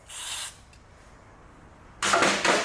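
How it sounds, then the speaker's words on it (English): Two short hissing sprays from an aerosol can of carb cleaner, a half-second burst followed after a pause by another, close and fairly loud. "I'll spray some carb spray, brake cleaner, alcohol,"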